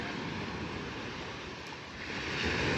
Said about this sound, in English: There's just something about listening to the waves